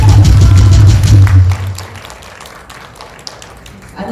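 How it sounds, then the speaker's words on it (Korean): An outdoor crowd at a women's patriotic rally claps, the applause loud at first over a low rumble of noise, then fading into scattered taps and murmuring voices. "여러분 박수 많이 쳐주세요"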